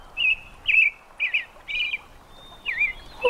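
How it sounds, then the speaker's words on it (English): A cartoon robin sings a series of bright chirping phrases, five or six short warbled notes spaced evenly and heard clearly alone against a quiet background. "Not your song. The robin song."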